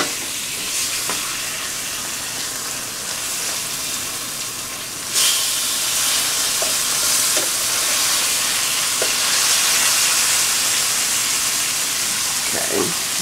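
Sausage fries in a pan on the stove, giving a steady broadband sizzle and hiss with occasional soft pops and scrapes, growing slightly louder partway through.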